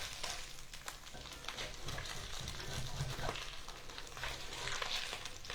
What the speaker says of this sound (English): I do have a little bit of the skin on the pan here, so I'm going to scrape that up